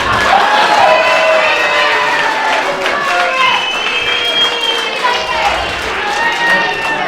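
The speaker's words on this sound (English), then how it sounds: "Give her a round of applause." An audience at a speech event applauds and cheers with a steady, dense roar of clapping and raised voices that holds for several seconds at full level.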